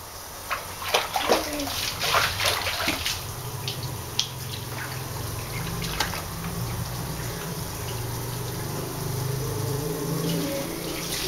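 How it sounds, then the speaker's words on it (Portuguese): A small child splashes and sloshes in a tub of laundry wash water, close and lively, with irregular slaps and watery churning throughout. "A Júlia tomando banho na água de lavar roupa."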